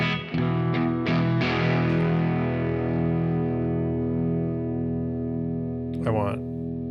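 Electric guitar played through a Beetronics Fat Bee overdrive pedal with every knob at noon, a few picked hits and then sustained distorted chords that ring out, followed by a brief scrape near the end.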